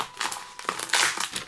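Crinkling and rustling of a large black paper envelope package being handled up close, in quick uneven bursts with no talking.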